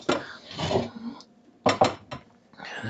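A steel pan is handled in a home kitchen, making a few short metallic clanks and knocks, close and moderately loud, separated by brief quiet gaps.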